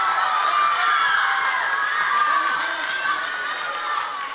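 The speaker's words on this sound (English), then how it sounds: "Why don't you clap these guys off stage?" A chapel audience at a school service cheers and claps performers off stage, a dense, steady wash of crowd noise with whoops and shouts, loud and sustained throughout.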